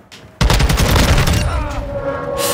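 Dragon's breath incendiary shotgun rounds fire in Call of Duty: Modern Warfare 2, a loud burst of close, rapid blasts with crackling fire that stays dense and sustained after the first shot.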